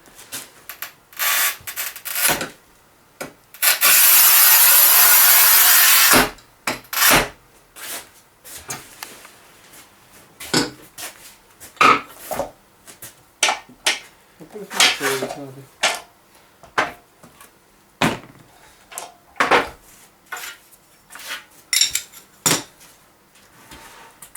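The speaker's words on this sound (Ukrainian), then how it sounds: "поклали плитку метр двадцять, товщина 10 міліметрів, новий кіракут працює" A Sigma Kera-Cut EXT manual tile cutter scores and snaps 10 mm thick, 1200 mm tile, giving a long scraping rasp followed by a series of sharp clacks and knocks close by. Faint voices are heard.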